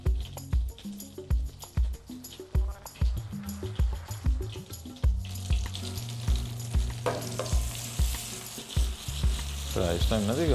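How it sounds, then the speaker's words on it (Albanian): Floured mushrooms and rolls fry together in a pan, giving a steady close sizzle with a run of sharp rhythmic pops and clatter early on that thickens into continuous frying noise; a voice talks over it. "Pra i shtojmë në digan dhe i skuqim të gjitha së bashku."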